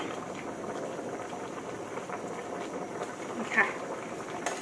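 A pot of tilapia curry with spring onions bubbles at a steady boil, a soft continuous simmer with an occasional louder pop, heard up close.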